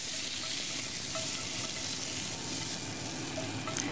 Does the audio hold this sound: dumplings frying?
yes